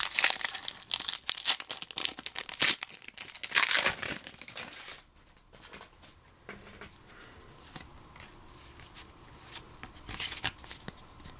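Pokemon Plasma Blast booster pack torn open, with loud close crinkling and tearing of the foil wrapper for several seconds, then softer shuffling of cards.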